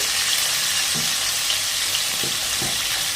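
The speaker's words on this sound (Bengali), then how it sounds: "একটু লবণ দিয়ে দিলাম, দিয়ে এবার আমি আলুগুলো ফ্রাই করে দেবো" Potato pieces coated with turmeric and salt fry in a pan, a steady bright sizzle throughout with a few soft stirring knocks, close and alone without talk.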